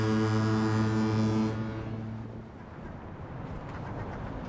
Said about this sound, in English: Right here is one of our fog horns.